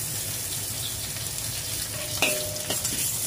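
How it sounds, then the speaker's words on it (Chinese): Ginger slices stir-fry in hot oil with a steady close sizzle, and a couple of sharp clinks and scrapes from a utensil against the wok can be heard near the end. "把啲姜片落去爆下。"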